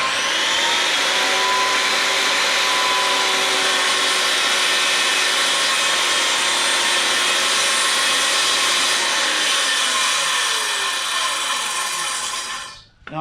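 A circular saw plunge-cuts into wood, its loud steady whine and rough cutting noise running close and unbroken for the whole stretch, then winding down abruptly at the end, with no talking.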